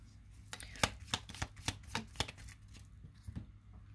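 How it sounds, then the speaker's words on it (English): Tarot cards are shuffled and pulled close by in a quiet room, with a string of soft, sharp riffling snaps and flicks at an uneven pace, about a dozen distinct bursts over a low background hum. "Let me pull some cards here."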